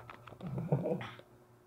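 A dog whimpers softly in a quiet room, a short cluster of thin whining cries rising and fading within about a second, with faint clicks before it.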